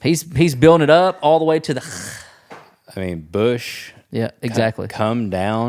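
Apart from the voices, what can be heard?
None of the usual background noises is heard.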